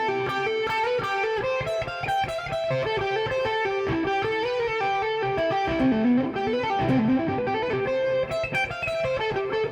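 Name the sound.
guitar playing Aeolian mode arpeggio and scale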